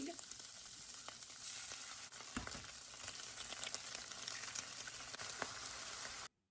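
Food with egg sizzles in a hot pan, a steady close frying crackle with scattered small pops that stops suddenly at the end.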